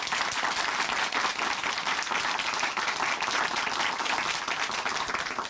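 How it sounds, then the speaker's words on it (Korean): A church congregation on a Korean Christian broadcast bursts into loud, dense applause, a continuous wash of many hands clapping close by that holds strong throughout before starting to fade at the very end. "우리 자매님께 다시 한번 큰 박수 보내드릴게요."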